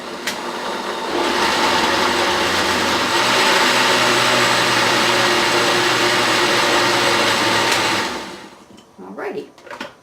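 A blender purees fennel, sausage and white bean soup with a loud, steady whirring that starts after a second and runs for about seven seconds before winding down, followed by brief clatter and quiet talk.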